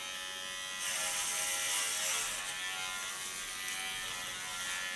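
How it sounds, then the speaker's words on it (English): Electric hair clippers buzz through hair during a buzz cut, a steady high whirring drone that starts about a second in and holds, with slight changes in tone as the blades move. "you see how wonderful this clipper works on your hair"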